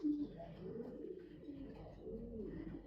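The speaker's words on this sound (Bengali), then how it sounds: "কবুতরটা সিলভার স্টাইলের কবুতর" A silver-style pigeon from a long-distance racing tournament coos in a soft, low, rolling series close by, the murmuring calls running continuously with little pause.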